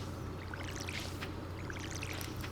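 Watering crops with a watering can in the Stardew Valley video game: a steady pouring, trickling water sound runs through the whole stretch over a low game hum, fairly quiet and continuous, with no talking.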